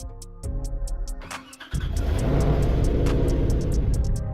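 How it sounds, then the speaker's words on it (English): A Porsche SUV engine starting up in Realistic Car Driving, with a rhythmic cranking that catches into a loud, aggressive roar and settles into a strong, steady idle, close and dominant with no talking. "Damn, that was an aggressive startup"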